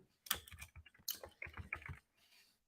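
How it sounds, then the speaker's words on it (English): Typing on a computer keyboard, close and fairly quiet, with rapid clustered key clicks in two bursts followed by a faint trailing tap, no talk over it. "I'm going to start typing"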